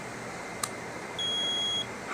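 A solar generator beeps as it is plugged in in an RV, one brief click followed by a single steady high electronic tone lasting under a second, clear against quiet background hiss.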